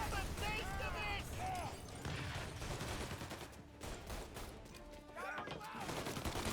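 Gunfire in a Mafia: Definitive Edition shootout, a dense run of loud, rapid shots clattering through most of the stretch, with short breaks between volleys and a voice shouting briefly over the battle.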